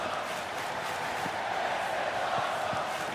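Virtual arena crowd in WWE 2K26 during a falls count anywhere match, a steady dense roar of chanting voices that holds at an even level throughout, with no single voice standing out.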